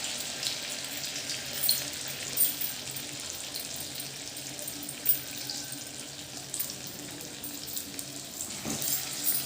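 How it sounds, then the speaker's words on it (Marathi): Medu vada frying in hot oil, a soft, continuous bubbling sizzle heard close up at low volume, with a few faint clinks and stirring sounds scattered through it. "वडे तेलामध्ये सोडल्यानंतर लगेच हलवायचे नाही जोपर्यंत आपले हे बुडबुडे जे दिसत आहेत तेलात आलेले स्थिर होईपर्यंत"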